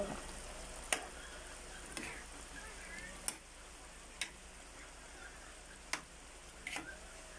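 A spoon stirs cooked food in a pan, which is still cooking down to a sticky consistency. Sharp taps and scrapes against the pan come roughly once a second over a quiet sizzle.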